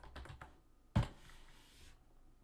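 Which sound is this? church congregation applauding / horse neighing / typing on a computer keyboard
typing on a computer keyboard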